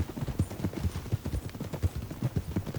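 A horse being ridden in Red Dead Redemption 2 clip-clops steadily across the ground, hooves falling in a quick continuous rhythm at close range, with faint voices in the background.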